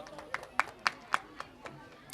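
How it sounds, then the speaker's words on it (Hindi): Scattered hand claps at a school annual function award ceremony, a few distinct sharp claps in an uneven rhythm, fairly faint and close, with a voice speaking around them. "तालियां रुकनी नहीं चाहिए दोस्तों।"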